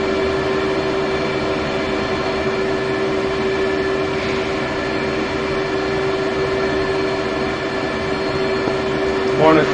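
An F/A-18 Hornet jet in DCS taxis toward runway 30 at Sukhumi, its engines holding a steady, loud whine and rumble with a sharp tonal hum throughout, plus a brief louder burst at the very end.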